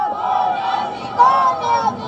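A crowd at a Pakistani political rally chants slogans in unison, a loud, tonal mass of voices rising and falling in rhythmic phrases with a sharper surge midway.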